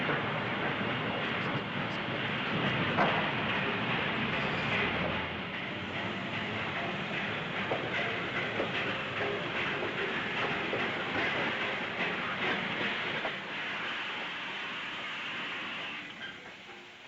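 A train rumbles steadily through a railway station in an old 1940s film recording, a continuous, moderately distant rolling clatter that lasts the whole stretch and fades slightly at the end, with no voices.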